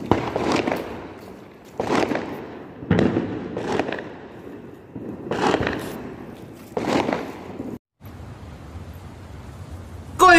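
Several Diwali firecrackers pop and crackle one after another at irregular intervals, loud bursts with a noisy background between them.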